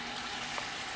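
Meat, likely ham, frying in a pan on a home stove, heard as a continuous even sizzle and crackle at moderate level with no voices.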